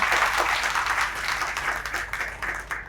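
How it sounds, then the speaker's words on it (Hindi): An audience at an outdoor tree-planting event in Indore claps in welcome, a lively burst of crowd applause that is loudest at the start and gradually thins and fades over a few seconds. "तालियां बजा के जरा स्वागत करिए।"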